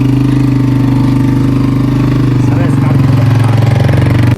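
A 125 cc motorcycle engine runs steadily nearby with a loud, even, throbbing drone that barely changes throughout.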